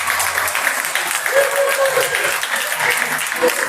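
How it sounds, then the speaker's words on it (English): An audience at a martial arts conference gives a sustained round of applause after a tai chi presentation, a dense, even clatter of many hands with some crowd voices mixed in. "Give them a round of applause."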